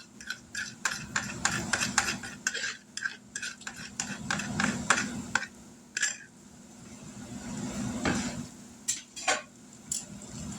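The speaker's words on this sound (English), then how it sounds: "Turn it down on low. And get these eggs in here" Eggs stirred in a pan with sausage over low heat, a scraping utensil tapping and clinking against the pan in uneven bursts over a steady soft sizzle, close by and without talk.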